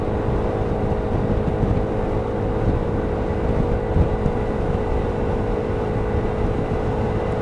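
A scooter accelerates on a freeway, its steady engine drone blended with heavy wind rush and road roar that stay loud and constant throughout.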